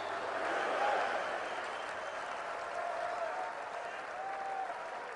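Church congregation applauding during a fatherhood sermon, a steady wash of clapping and crowd noise across the whole stretch, swelling briefly near the start and then holding even.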